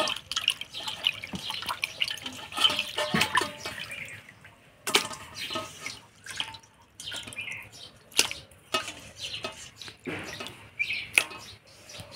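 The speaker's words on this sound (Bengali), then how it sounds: "মাছটা পরিষ্কার করে ধুয়ে নিলাম।" Cut pieces of katla fish are washed in a kitchen: splashing and dripping water with clattering handling sounds, close and uneven, with faint bird chirps in the background.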